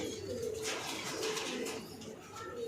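Pigeons in a loft give soft, rolling coos over a low, steady murmur of many birds, heard close and continuous for a few seconds.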